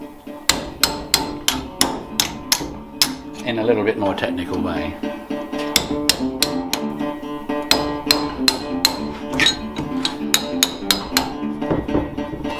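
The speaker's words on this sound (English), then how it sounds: "we need to hit stuff again with the hammer" Rapid, evenly spaced hammer blows ringing sharply on the metal top of a rusty guitar, close and loud, with someone talking over the strikes for part of the time.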